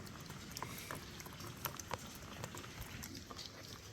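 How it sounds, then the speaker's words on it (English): Heavy rain in the Coachella Valley at Indio, California, heard as a steady dense patter with scattered sharper drips and splashes, close by and alone. "But this is not a light rain. This is a heavy rain."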